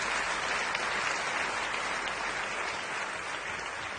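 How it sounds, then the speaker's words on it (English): An event audience gives a steady round of applause, with dense clapping filling the room evenly from start to finish and no voices heard. "Big round of applause for that."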